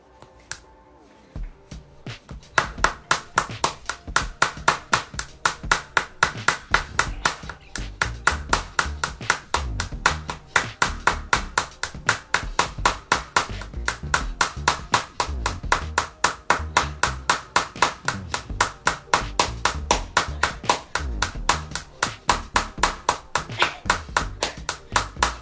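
Group of people clapping hands in a steady, fast unison rhythm during a fitness workout, loud and close, beginning after a brief quiet pause and continuing evenly throughout.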